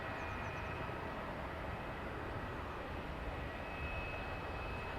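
An ATR turboprop at Dublin Airport gives a steady, broad engine roar from some distance, holding even and unbroken for the whole stretch with no talking.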